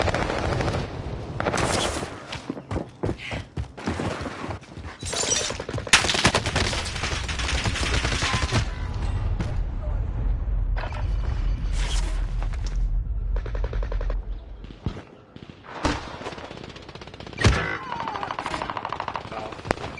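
Rapid automatic gunfire in the Warzone video game rattles in long, loud, dense bursts with scattered single shots and booms, sustained almost throughout.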